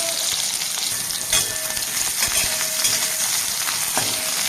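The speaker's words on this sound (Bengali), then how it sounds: "আমি ওই তেলের মধ্যে একটু বেগুনটা ভেজে নেব" Steady, close sizzling of eggplant frying in hot oil, with a few faint stirring knocks and no voices.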